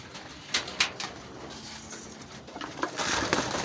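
Racing pigeons feeding, with soft cooing, a few sharp wing flaps and pecking patter, fairly close, with no talking.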